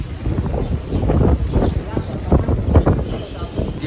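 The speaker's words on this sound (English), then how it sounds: "Protect the skin from the heavy wind." Heavy wind in a Taiwan sandstorm gusts and buffets against the microphone in uneven bursts, with people talking through the rough, rumbling noise.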